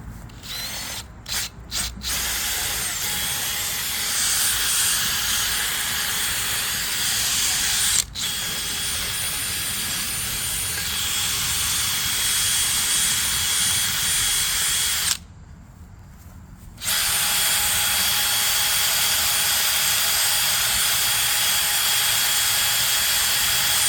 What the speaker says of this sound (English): I have the drill with the little wire brush bit in there.